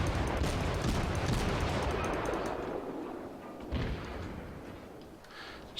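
Naval guns aboard the German cruiser Kolberg in World of Warships fire in a heavy rumbling barrage, dense and booming at first, then fading with a few later thumps.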